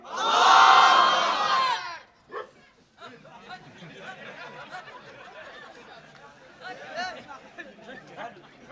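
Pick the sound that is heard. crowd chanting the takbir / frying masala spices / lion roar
crowd chanting the takbir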